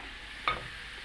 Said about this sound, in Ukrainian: Поки одна партія смажиться